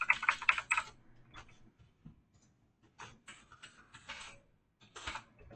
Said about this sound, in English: I'm going to go ahead and type in record here.